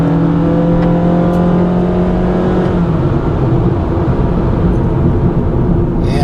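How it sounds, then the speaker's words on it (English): A 2015 Honda Fit EX-L five-door engine accelerates while driving, its tone climbing steadily and loud with a rising whine, then settling into a steady drone as road noise continues. "But the engine's still a little noisy on the acceleration side."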